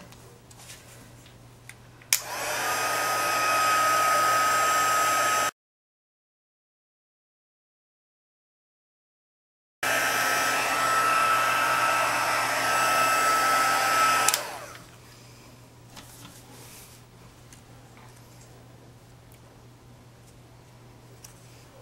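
A two-speed handheld heat tool blows a steady, loud whooshing roar while heat-setting a paper craft piece. It runs in two bursts of a few seconds each, with a silent gap between them and a quiet room before and after.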